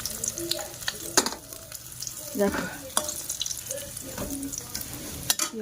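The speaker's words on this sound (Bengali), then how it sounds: "মাছটা বেশি কড়া ভাজা হয়ে গেছে" Oil crackles and sizzles steadily as overcooked fish fries, with scraping stirs and clinks from a utensil, and a brief voice speaking once over it.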